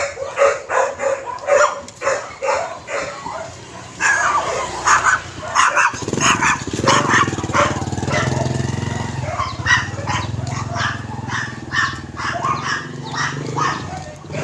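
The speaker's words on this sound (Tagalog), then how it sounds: "Mga aggressive po yung mga aso niya." Several dogs bark and yelp persistently at close range, agitated and overlapping, with a low growling rumble in the middle stretch.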